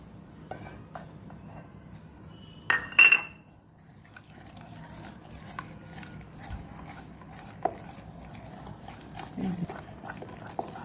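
Cake batter being stirred in one direction in a bowl, giving soft, steady mixing sounds with scattered light clinks of the spoon on the bowl and one louder clatter partway through.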